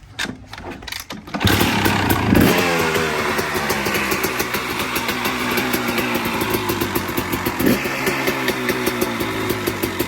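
A motocross bike engine catches after a brief quiet start, then runs loud and close with a steady rough idle, revving up twice along the way.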